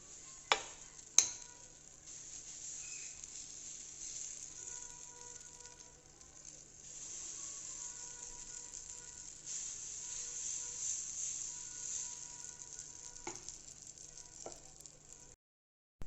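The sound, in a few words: Hyderabadi chilla batter cooking on a pan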